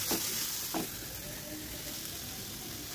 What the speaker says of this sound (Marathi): मी कांदा लसूण मसाला आणि चवीनुसार मीठ टाकून छान असं व्यवस्थित हे परतून घेत आहे